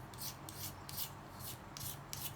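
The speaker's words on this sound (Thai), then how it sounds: "ก็จะนำมาขูด ขอบข้าง ลบรอยตะไบ ที่มันกินลึก" Rhythmic scraping strokes, about eight quick rasps of a blade along a metal edge, close and fairly quiet, with no talking.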